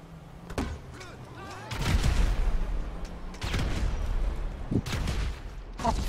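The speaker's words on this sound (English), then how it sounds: "You have a rocket launcher?" Explosive rocket launcher blasts in Grand Theft Auto V: several heavy booming bursts in succession, loud and close, with rumbling tails between them.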